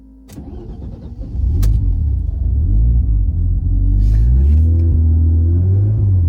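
A Mercedes M104 3.2-litre turbocharged engine cold-starts after a dyno session: a short starter crank, then the engine catches and settles into a loud, steady, close idle rumble that rises slightly, with no talk.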